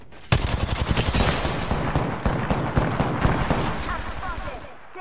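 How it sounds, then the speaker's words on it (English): Rapid automatic gunfire from an Apex Legends firefight crackles loud and close in dense, overlapping bursts, keeping up a nearly unbroken barrage for almost five seconds before cutting off. "Taking fire."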